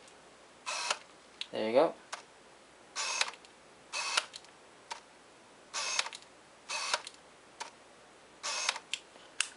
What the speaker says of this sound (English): the autofocus sound that this lens makes is very loud